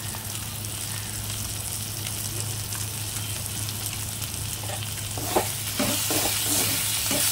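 Ground turmeric, cumin, coriander and chili spices fry and sizzle steadily in a pan, with stirring scrapes growing more pronounced toward the end; no voices.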